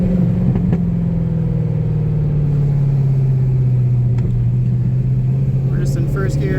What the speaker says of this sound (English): We're just in first gear coming down the hill here.